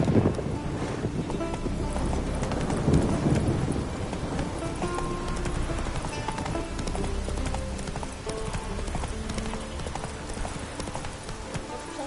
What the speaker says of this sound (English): Slow now. Whoa. Come on, Roach.